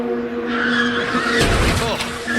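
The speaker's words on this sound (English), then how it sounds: "That's the worst noise in IndyCar racing, man, when you just hear the wind knocked out of that safer barrier in the back of that car" An IndyCar at Phoenix in 2016 screeches and skids before slamming hard into the SAFER barrier, a heavy crunching impact over roaring engine and tire noise, close and loud.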